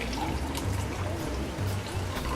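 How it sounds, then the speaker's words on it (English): Brewed coffee pours from a French press into two cups, a steady liquid trickle and splash close by, continuous with slight surges as the stream shifts between cups. "I can pour out the coffee"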